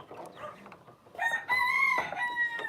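Chickens and a rooster in a backyard homestead coop: soft clucking at first, then a loud, close rooster crow with sustained harmonic calls lasting over a second.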